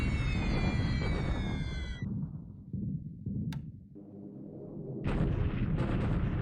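Bombing raid explosions in the War in the Pacific strategy video game, with booming blasts and a sustained roar, a high whine fading out, a sharp crack, then a loud rumbling burst resuming, all alone with no talk.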